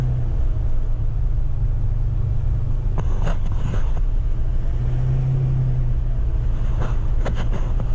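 A 2008 Chevy 3500HD with a 6.6 LMM diesel, full delete and straight exhaust drones with a loud, steady low rumble while driving on snowy roads, with brief swells as it runs.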